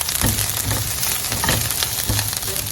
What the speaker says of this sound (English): Our onions are getting brown. So you still have to fry it